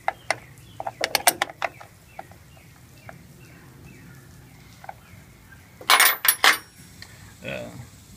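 Wrench working loose rounded-off 13 mm battery terminal nuts on an M1008 CUCV truck, giving scattered sharp metallic clicks and ratcheting taps, close by, with a louder cluster of clanks near the end.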